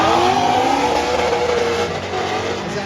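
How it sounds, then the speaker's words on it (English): A car brakes hard on a track at a Ford festival, with the inside tire locked up under left-foot braking. A loud, steady roar of engine and tire noise carries a sliding squeal that falls in pitch, with no voices. "that left foot brake from Chelsea was up there with the inside tire locked up"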